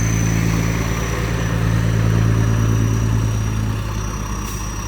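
A tractor engine running steadily nearby, a constant low droning chug with a faint high whine, loud and even throughout with no talking.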